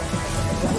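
Heavy rain pours with a low rumble of thunder in a brief, dense, loud burst of noise.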